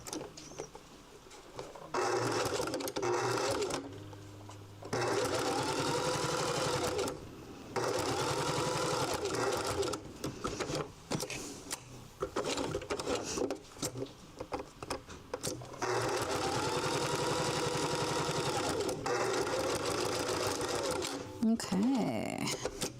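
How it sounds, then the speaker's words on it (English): A sewing machine runs in steady bursts while stitching a fabric bookmark, its busy mechanical whir stopping briefly a few times and restarting, close by, with talk heard alongside. "before we stitch it down"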